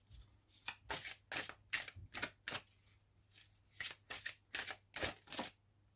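Angel oracle cards are shuffled by hand in a quiet room, a run of about a dozen short, crisp riffling bursts with brief pauses between them, close and soft, no voices.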